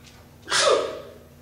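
A single short, sharp sneeze bursts out in a quiet room during a Bible study talk, loud and breathy for about half a second, then fades.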